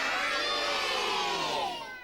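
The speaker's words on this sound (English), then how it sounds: "I want you all to shout for Scampy." A crowd of young children at a live Sooty stage show shouts loudly in unison for Scampy, a dense, sustained chorus of voices that tails off at the end.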